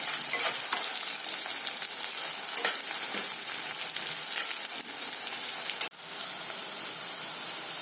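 Sliced onions fry in a hot pan of oil, a dense, steady sizzle with crackling spatters and occasional stirring scrapes that continues throughout, briefly cut near the end before resuming slightly softer.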